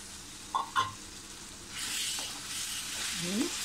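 Ground tomato paste from three tomatoes drops into spiced masala oil for dhaba-style paneer masala, giving a soft frying hiss after a couple of light clinks, fairly quiet and close.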